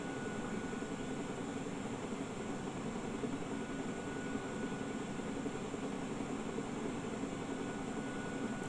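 A Huey helicopter flying in a video game flight simulator gives a constant, even drone of engine and rotor noise, unchanging and moderately quiet, with no voices over it.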